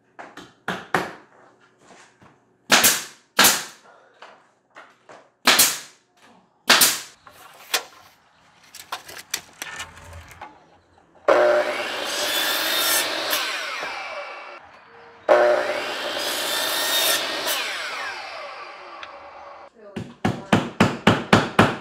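Wooden furring strips are put up on a crooked wall with a run of sharp, loud impacts like hammering or nailing, broken by two longer stretches of whirring tool noise and ending in a rapid burst of strikes.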